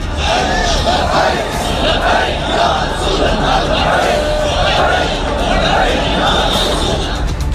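A large crowd of TLP supporters in Pakistan chants and shouts together, a dense, loud, continuous roar of many voices with rhythmic surges throughout.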